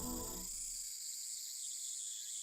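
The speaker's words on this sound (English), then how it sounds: "where the cries of cicadas resound" A steady, shrill cicada drone fills the air at a quiet shrine in Steins;Gate, high and continuous, after a brief low tone fades out at the start.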